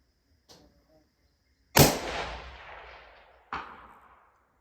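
A 6.5 Creedmoor rifle on a Solus Bravo action, fitted with an Anechoic X suppressor, fires at 450 yards. One faint early pop is followed by two loud, sharp cracks, each with a long rolling echo outdoors.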